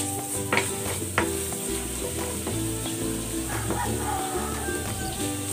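Garlic sautés in cooking oil in a pan, giving a steady sizzle with a couple of sharp utensil clacks early on, while a dog yips faintly in the background.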